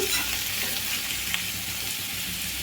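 Eggplant pieces sizzle and fry steadily in hot oil, with occasional stirring, close and continuous and free of speech.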